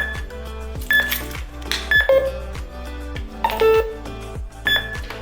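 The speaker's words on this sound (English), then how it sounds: "When you start hearing the little sound, it means the alarm will start in about 1 minute." Short electronic beeps and chirps from an apartment alarm system repeat at intervals over a rhythmic ticking pulse, a warning pattern before the alarm arms.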